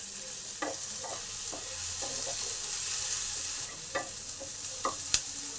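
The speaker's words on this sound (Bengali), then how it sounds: "এবার পেঁয়াজটাকে একটু ভালো করে ভেজে নেব।" Chopped onion fries in a pan with a continuous hissing sizzle, while a spatula scrapes and taps the pan in irregular strokes at close range, with no talking.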